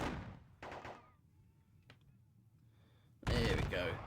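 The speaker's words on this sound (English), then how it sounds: "Open fire on them." A musket volley in a Napoleonic wargame, WDS Ney at the Katzbach, heard as a crackling burst of massed gunfire at the start and again, louder, near the end, with quieter game sounds between.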